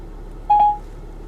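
A single short activation tone from the Siri voice command in a 2015 BMW X5 diesel, clear and close over a quiet cabin hum.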